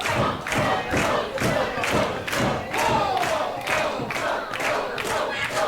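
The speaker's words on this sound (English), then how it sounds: "I can hear chants of Tall." Wrestling crowd at Commemoration Hall in Huntingdon chanting a one-syllable name in loud, regular bursts, about two per second, with thumps and cheers filling the hall between each shout.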